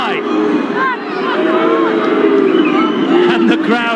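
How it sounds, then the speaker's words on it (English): Rugby crowd at a 1991 Wales versus Papua New Guinea match booing the Australian referee after a disallowed try, a dense, steady roar of voices and jeers filling the stadium with some shouts rising above. "They're booing the Australian official."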